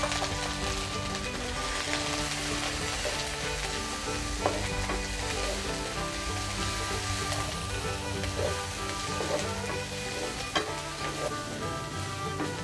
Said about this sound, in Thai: น้ำมันเริ่มร้อนนะคะ ให้เราใส่พริกแกงที่เราโขกเอาไว้นะคะ ลงไปผัดเลยค่ะ